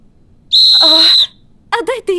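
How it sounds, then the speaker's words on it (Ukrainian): A cartoon whistle blown for help gives one loud, shrill, sustained blast lasting under a second, followed by short bursts of animated voices. "Якщо потрібно покликати на допомогу, ви можете використати свисток."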